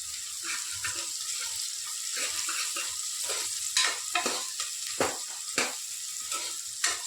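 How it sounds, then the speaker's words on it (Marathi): Onion fries in hot oil for masale bhat, a steady close sizzle with spatula stirring strokes and a few louder scraping sweeps toward the end. "कांदा थोडासा लाल होऊ द्यायचा, गुलाबी म्हणजे कलरचा."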